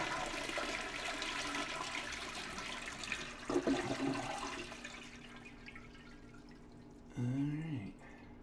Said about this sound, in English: Flush it out.